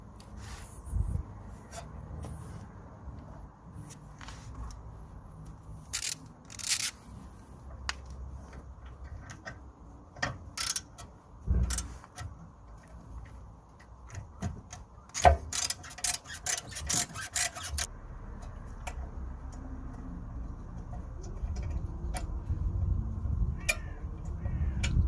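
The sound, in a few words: T45 bit removing guide pin bolts on Audi rear brake caliper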